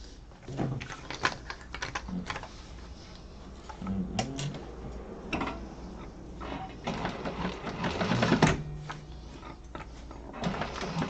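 A sewing machine stitches a seam at 3/8 inch allowance around a rounded corner, running in uneven bursts of rapid mechanical clatter with brief pauses, fairly close and moderately loud, with no talking.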